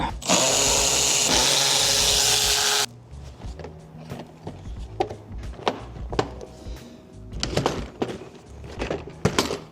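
Power tool or ratchet removing air dam bolts on a Ford F150 truck: a loud continuous whir for a few seconds, then scattered clanks, clicks and rustling nearby.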